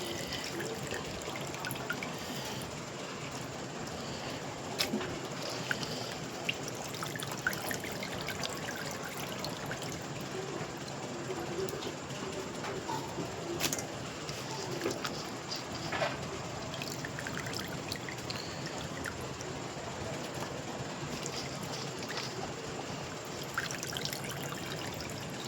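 Water pours and trickles steadily while food is washed, a continuous close splashing flow with small drips and clatters throughout.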